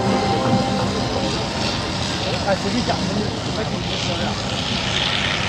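A Beech 18, a small twin-engine propeller plane with 450 hp radial engines, flies overhead at the La Ferté-Alais air show with a loud, steady droning roar, while a commentator talks over it throughout.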